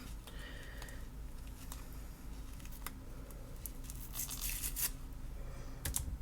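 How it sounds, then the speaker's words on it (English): Old tape is peeled off 1894 music sheets in a quiet room, with faint sticky ripping and scratchy crackles that grow a little louder near the end. "trying to peel the tape off"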